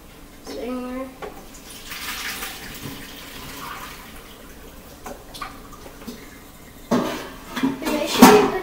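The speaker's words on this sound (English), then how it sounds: "Now I'm going to put it in the strainer." Cooked ramen noodles and their water tipped from a pot into a strainer in a sink: a rushing splash of draining water with clanks of the pot against metal, growing louder near the end, while a person speaks between sounds.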